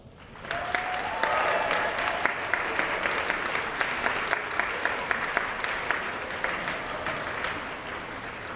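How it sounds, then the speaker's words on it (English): Sustained applause from a large audience at a high school senior honors convocation, steady dense clapping that starts abruptly and continues evenly throughout, with faint voices underneath. "Let's give them a nice round of applause."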